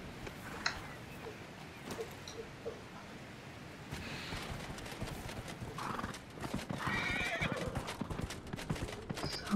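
A horse in Dragon Age Inquisition neighs and then trots, with irregular hoof clopping that grows busier and louder toward the end, set against faint outdoor ambience.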